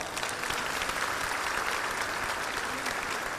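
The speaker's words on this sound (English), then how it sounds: "give those folks a round of applause" A crowd applauds steadily at the Monroe Civic Center, a dense even patter of clapping throughout with no one speaking over it.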